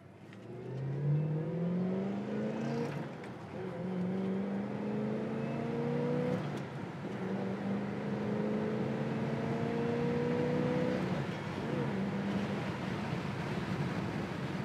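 A 1968 Ford LTD with a 428 V8 accelerates hard. The engine note climbs steadily through several rising sweeps as it shifts up, loud and continuous from nearby with no talking.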